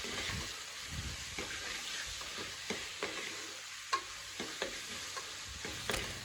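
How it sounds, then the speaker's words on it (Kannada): Field beans (avarekalu) frying in oil in a village kitchen, a soft low sizzle broken by irregular stirring taps and scrapes, quiet and close with no speech. "ಅವರೆಕಾಳನ್ನ ಎಣ್ಣೆಗೆ ಹಾಕಿ ಹುರಿಬೇಕು."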